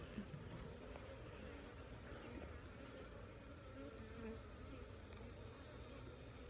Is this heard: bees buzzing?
yes